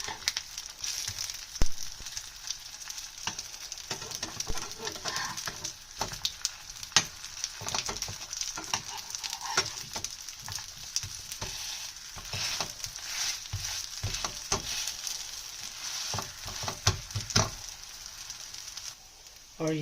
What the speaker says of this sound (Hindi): तो ये देखिए कबाब मेरे अच्छे से फ्राई हो चुके हैं।